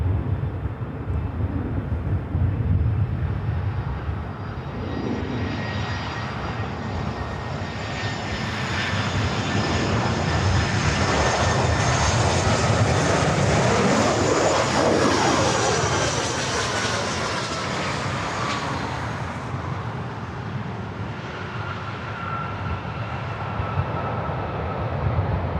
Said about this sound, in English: this is the Allegiant flight coming in from Omaha,